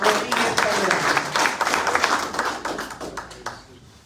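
An audience applauds at a book presentation with a dense patter of clapping, strongest at first and gradually thinning, with a low murmur of voices underneath.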